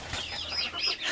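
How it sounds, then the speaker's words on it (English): A Black Copper Marans rooster on a small farm clucks and flaps its wings close by, giving a short flurry of agitated calls and rustling. "Silly rooster got stuck."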